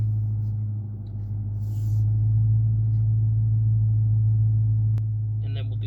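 Manual Dodge Challenger RT cruising in Sport mode with the Pedal Commander off, a steady low engine drone and road rumble inside the cabin, continuous and fairly loud, with a faint click near the end.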